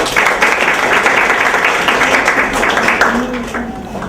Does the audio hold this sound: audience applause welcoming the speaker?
yes